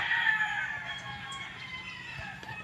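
Soft clucking and chirping of chickens at a distance, mixed with faint background ambience, quiet and continuous.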